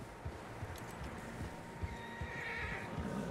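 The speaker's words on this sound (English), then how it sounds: "Horses, quite a few of them." Horses in the video game Red Dead Redemption 2: a faint, distant whinny rises late in the clip over soft, scattered hoof clops and low ambient noise.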